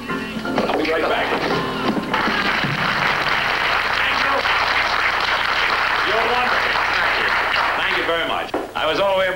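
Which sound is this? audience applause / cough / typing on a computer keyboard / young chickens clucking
audience applause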